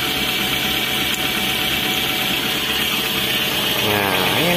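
A Suzuki APV car engine runs after ignition coil work, a loud, steady idle with a constant mechanical hum, rising briefly in pitch near the end as the throttle is blipped.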